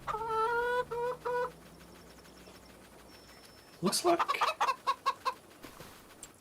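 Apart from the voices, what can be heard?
chickens clucking in video game Farming Simulator 25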